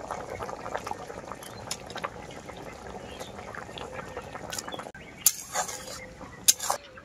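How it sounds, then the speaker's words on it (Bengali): Egg curry gravy simmers with a soft, faint bubbling, then fried eggs are added with a few sharp clinks of a utensil against the pot near the end. "ঝোলটা খুব ভালোভাবে ফুটে গেছে। এখন আমি ভেজে রাখা ডিমগুলো দিয়ে দেবো এর মধ্যে।"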